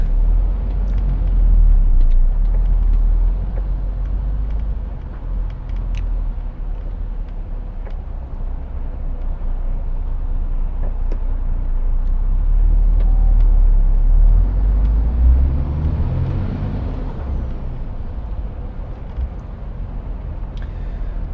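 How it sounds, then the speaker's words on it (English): Road traffic around Bradford heard from inside a vehicle, a low continuous rumble of engines and tyres with passing cars swelling and fading, no talking. "Oh, don't you just love traffic?"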